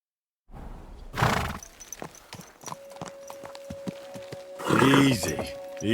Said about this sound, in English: Do you want that horse to trample me?